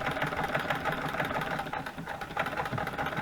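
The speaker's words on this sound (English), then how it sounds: "Sewing machine's wobbly." A sewing machine runs steadily on a wobbly table with part of it hanging off the edge, giving a continuous motor whir with a faint rattling vibration.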